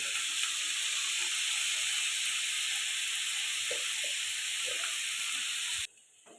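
Pointed gourd and bitter gourd frying in a pan with salt and turmeric, giving a steady bright hiss and sizzle up close that cuts off abruptly near the end, no talking.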